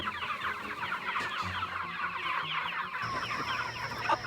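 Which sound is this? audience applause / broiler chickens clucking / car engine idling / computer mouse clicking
broiler chickens clucking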